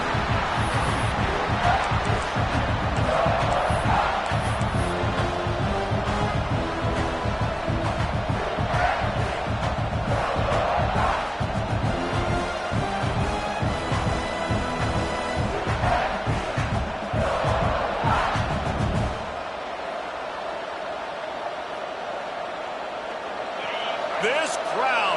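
Loud college football stadium crowd roaring in full voice during an in-state rivalry game, a dense continuous cheer with a commentator talking over it, easing off toward the end.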